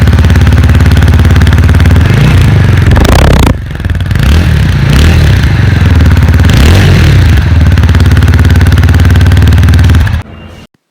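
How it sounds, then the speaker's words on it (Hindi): A TVS Apache RTR 160 4V motorcycle engine idles loudly up close, then revs in several quick blips before cutting off near the end. "तो सबसे पहले सुनते हैं हम अपाचे के एग्जॉस्ट."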